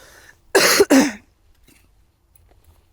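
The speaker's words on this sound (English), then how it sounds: "I have to cough so bad." Two sharp, close coughs in quick succession, followed by near silence.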